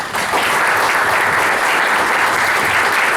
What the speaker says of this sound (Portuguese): Queria pedir uma salva de palmas ao Dr.